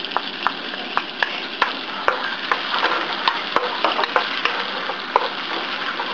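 Garlic sautés in melted butter in a hot pan, giving a continuous close bubbling sizzle with frequent small clicks and taps from a stirring utensil.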